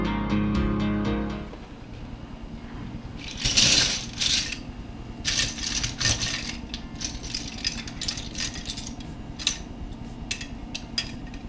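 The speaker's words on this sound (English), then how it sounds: "There's just something about the sound of freshly cleaned keys." Freshly washed Commodore VIC-20 keycaps clatter and click against one another in a run of loose plastic rattles, with a brief hum at the start before the clatter.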